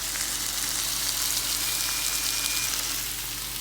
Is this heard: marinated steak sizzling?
yes